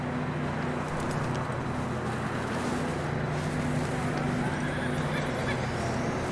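Horses whinny and hooves clop on a trail in the Red Dead Redemption 2 game, set against a constant wind-like outdoor ambience at fairly even loudness.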